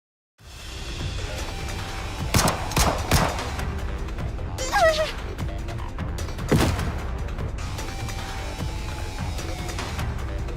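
Gunfire in the video game Nikke, with several sharp shots and crashing impacts scattered irregularly over a steady rumbling battle background, moderately loud.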